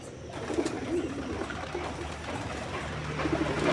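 Pet pigeon cooing close by, soft low throaty coos repeated a few times over faint background hiss.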